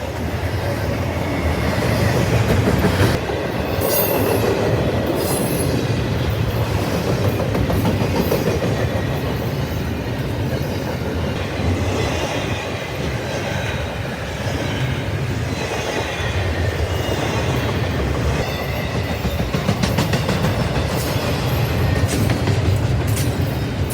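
Norfolk Southern intermodal freight train NS24X rolls past at close range, a steady loud rumble of wheels and cars with rhythmic clicking over rail joints and occasional high wheel squeal throughout, no voices.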